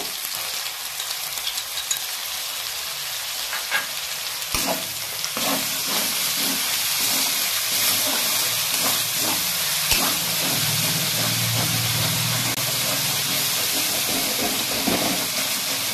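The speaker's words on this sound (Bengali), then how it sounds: "এবার আমি দেবো পেঁয়াজ বাটা।" Onion paste hits a hot pan for an aloo dum filling and sizzles loudly. A continuous hiss and spatter runs throughout, broken by occasional scrapes and clanks of stirring.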